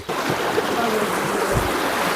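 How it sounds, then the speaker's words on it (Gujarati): Fast-flowing floodwater rushes in a steady, loud broadband roar from start to finish, with a brief low thump near the end. "એટલું પાણીનું વહેણ તેજ છે"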